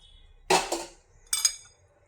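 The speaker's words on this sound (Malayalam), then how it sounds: "എന്നിട്ട് ഇതൊന്ന് ഇളക്കി കൊടുക്കാം" Egg salad with chopped coriander being stirred in a bowl, giving two brief, close clinks of a utensil against the dish with quiet pauses between.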